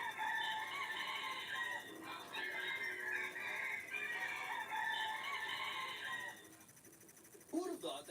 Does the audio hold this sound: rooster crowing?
yes